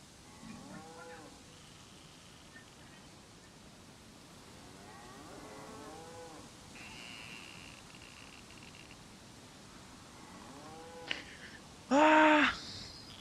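Cows in the video game DayZ moo several times in drawn-out, moaning calls, soft and somewhat distant over a quiet background, with a brief louder burst near the end.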